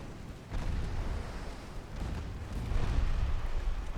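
Heavy naval gunfire from 5.4-inch guns in a dreadnought warship game, with dull low booms and rumbling blasts rolling over each other near continuously, louder toward the end.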